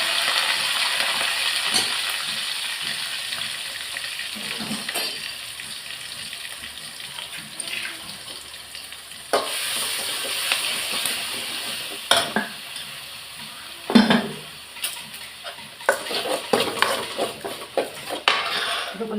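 Ingredients for fish rasam with ground pepper, cumin, garlic and curry leaves are stirred and fried in a pan, with steady sizzling, scraping utensil clatter and occasional sharp metal knocks, close and alone.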